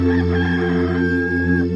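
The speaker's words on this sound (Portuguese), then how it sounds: "Imediatamente cantou o galo." A rooster crows once, loud and close, a sustained cock-a-doodle-doo filling the whole short clip, with no talk.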